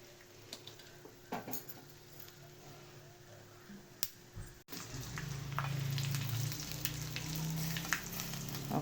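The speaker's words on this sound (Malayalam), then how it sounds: "ഇത്ര എണ്ണ ഒഴിച്ച് നമ്മൾ താളിക്കുന്നത്" Hot oil crackles and sizzles steadily in a pan while spices are tempered for a jackfruit dish, rising in intensity partway through after a sharp tick, with faint clicks scattered throughout.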